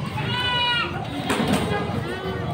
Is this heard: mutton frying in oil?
no